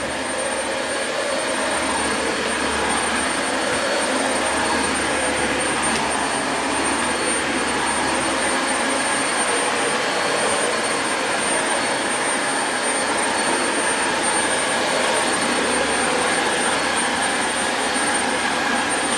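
A 2017 Dyson Light Ball Multi Floor upright vacuum cleaner runs steadily and loudly close by, a constant whining motor roar with airflow hiss that holds level for the whole stretch, with no talking.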